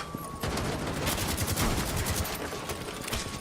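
Dense shotgun blasts and grenade explosions fill a Rainbow Six Siege esports playoff round on the Nighthaven Labs map, a loud, continuous volley of gunfire with no talk over it.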